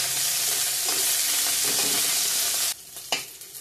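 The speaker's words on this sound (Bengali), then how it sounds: "হয়ে গেছে ফোড়নটা ভালো করে ভাজা ভাজা" Onion, garlic, ginger and green chillies fry in hot oil for a tempering, a dense steady sizzle for most of the clip that suddenly drops away, followed by a couple of stirring scrapes.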